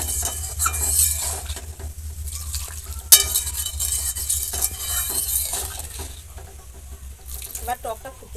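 Water poured into a pan of spiced vegetables frying in a Bengali village kitchen, with a steady sizzle, a sharp metal clink and scraping stirs close by; no speech.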